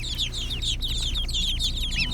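Young khaki Campbell ducks and a tufted Roman goose chatter in a steady stream of high, busy peeps and calls, close up over a constant low background hum.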